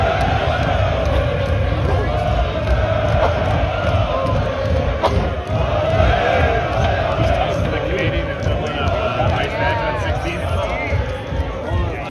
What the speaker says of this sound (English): The crowd was insane.